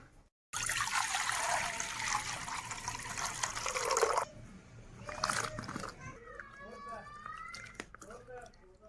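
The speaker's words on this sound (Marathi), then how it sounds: "हे घे वांगे आणि धुवून दे।" Brinjals (eggplants) washed in water for a traditional baingan dish: a loud, broad rush of running water for about four seconds, then quieter trickles and clinks, with a voice speaking near the end.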